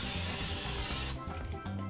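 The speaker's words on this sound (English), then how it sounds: "in my frying pan, I'm going to go ahead and just give a little spray of Pam." Pam cooking spray is sprayed into a frying pan in one loud, close hiss lasting about a second, followed by quieter handling and clatter.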